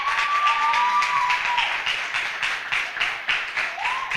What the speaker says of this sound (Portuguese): Dê um forte aplauso ao rei.